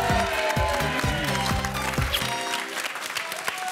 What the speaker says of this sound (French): Voilà, ça s'applaudit.